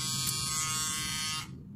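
Electric shaver buzzing steadily as it cuts hair, loud and close, a continuous whirring drone that cuts off abruptly near the end.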